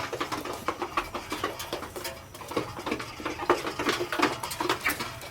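Chickens on a poultry farm in Kenya, with scattered pecking, scratching and rustling taps from a flock close by, irregular and fairly quiet, with no talking.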